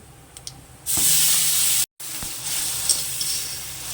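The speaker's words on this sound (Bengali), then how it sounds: "পেঁয়াজটা একটু ভালো করে ভেজে নেব।" Onion paste dropped into hot oil for an ivy gourd (kundri) masala bursts into a loud, sudden sizzle that holds as a steady hiss, breaks off briefly, then continues a little softer.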